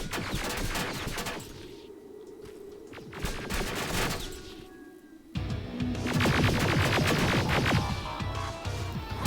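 Turret gunfire in the Terminator Resistance video game, dense rapid automatic bursts rattling loudly in long stretches, with a brief lull before a heavier sustained volley.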